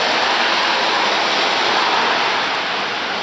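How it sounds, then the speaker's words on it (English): Heavy rain pours down steadily in a Southern California backyard, a dense, loud, unbroken hiss of falling water with no pauses or other sounds standing out. "And it's raining for 4 days already."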